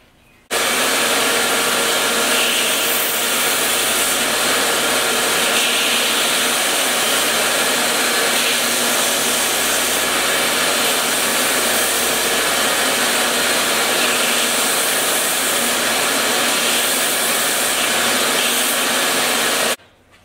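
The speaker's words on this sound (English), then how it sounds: "So next is back to the belt sander, and we're going to sand this to where it's the same on both sides." A belt sander runs continuously on knife handle scales for a forged dog bone knife, a loud, steady whirring roar from start-up to shutdown with no breaks.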